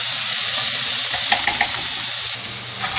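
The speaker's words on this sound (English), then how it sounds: "And we're going to put our peppers and onions." Peppers and onions sizzle steadily in a hot pan alongside mushrooms, a constant loud frying hiss with light stirring clicks and no talking.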